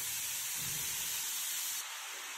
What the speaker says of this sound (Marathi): आता मी कढई घेतली आहे, त्यामध्ये गाजर टाकून घ्यायचे